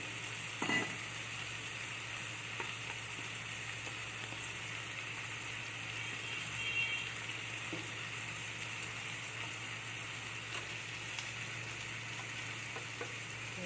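Spices dissolved in water, cumin, chili and turmeric powder, sizzle in a hot pan with potato for a banana flower dish, a steady, moderately faint frying hiss with a few brief clinks and stirring sounds, no voices.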